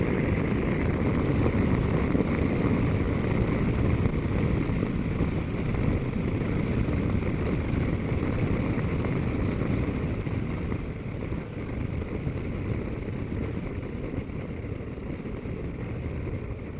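A CFMOTO 650MT motorcycle on a UK road ride, a loud continuous engine drone heavily mixed with rushing wind noise on the microphone, holding steady throughout without voices.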